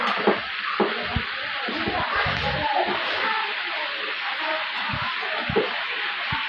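Chicken pieces frying in a pan of hot oil, a loud, steady close-up sizzle throughout, with occasional low knocks and stirring bumps from the pan and utensils, and no speech.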